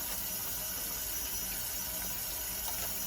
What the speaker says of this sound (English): I'm going to wash my hands, get a couple of pumps of water